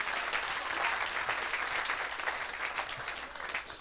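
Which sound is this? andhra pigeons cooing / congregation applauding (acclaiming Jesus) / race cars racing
congregation applauding (acclaiming Jesus)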